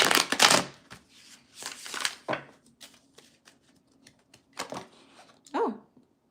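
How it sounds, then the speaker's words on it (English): Tarot cards shuffled by hand, several rapid papery riffling bursts separated by pauses, close and fairly quiet, with a brief soft voice near the end. "First shuffle."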